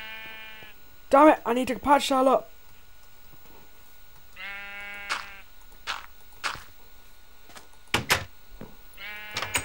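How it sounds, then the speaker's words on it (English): Sheep in the game Minecraft bleat in several loud, wavering calls, alone and in quick bursts, mixed with clicking game effects and someone talking. "that sheep scared the hell out of me"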